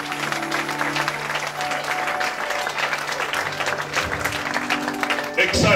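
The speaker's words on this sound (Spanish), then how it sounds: "Denle un aplauso a Cristo." A church congregation applauds at a temple inauguration service, a dense, loud, sustained wash of clapping that continues throughout with voices mixed in.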